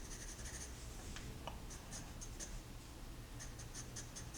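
A pencil cross-hatches on paper in quick, repeated scratchy strokes. The sound is faint and close, with short bursts of scribbling between brief pauses.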